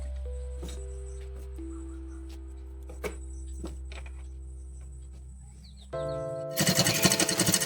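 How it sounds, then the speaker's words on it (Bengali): A sewing machine stitches curtain fabric with a low steady motor hum, then breaks into a loud, fast rattling run of the needle at the end. "এইভাবে আমি পুরোটা সেলাই করে নিচ্ছি"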